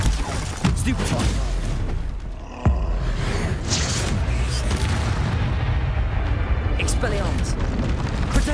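Stupefy spell cast in Hogwarts Legacy, one of a rapid stream of combat spells: dense booming and crackling magic blasts with a sharp hit near the middle, continuous and loud throughout.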